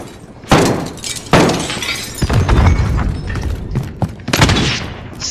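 Glass shatters in a multiplayer shooter game alongside gunfire. Loud, close breaking crashes and shots come in several bursts over a few seconds, with debris tinkling between them.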